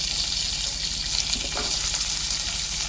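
Small onions fry in hot oil with cinnamon, cloves, peppercorns and curry leaves, giving a steady, close sizzle with a light stir partway through.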